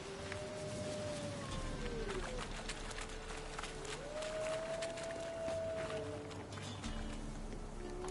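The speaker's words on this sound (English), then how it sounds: "Wolves. Hide!" Wolves howling in The Witcher 3 video game, long rising and falling tonal howls drawn out over a steady noisy ambient bed, several overlapping calls at moderate distance.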